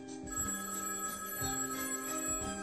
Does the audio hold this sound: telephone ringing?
yes